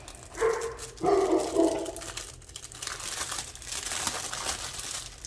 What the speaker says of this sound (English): Sorry for my dog. It keeps barking.